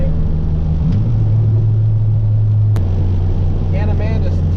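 Low, steady engine rumble from a race car idling and revving, a sustained drone that shifts pitch once and holds, close and loud, with a voice speaking over it near the end.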